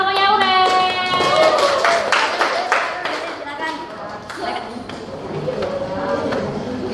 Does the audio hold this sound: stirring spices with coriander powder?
no